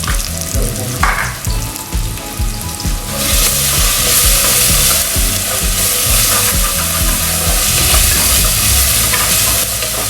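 Ginger, garlic and green chilli paste for dum chicken biryani hits hot oil in a pan, first with scraping stirs, then a loud, continuous sizzle and hiss.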